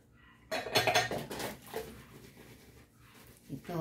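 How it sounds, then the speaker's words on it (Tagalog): Dishes, pots and cutlery clatter and clink in a kitchen sink during washing, with a burst of loud clanking early on that settles into lighter scattered knocks, close by with no talking. "Ngayon, maghugas naman ako ng plato."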